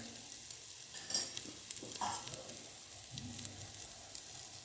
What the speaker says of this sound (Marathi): हे थोडंसं यामध्ये मिक्स करायचं आहे परतून घ्यायचं आहे